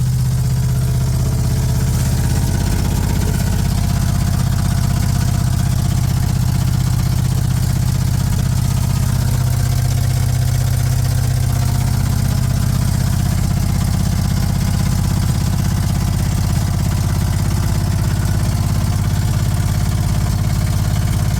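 A 1969 GMC truck engine idles with a loud, rough rumble through open headers with no exhaust, a raw, unmuffled bark and deep low throb, no talking.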